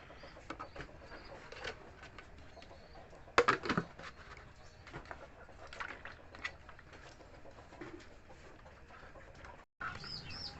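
Chickens cluck and coo softly while being given probiotic water, with scattered pecking and small knocks, fairly quiet and steady with a brief louder burst near the start.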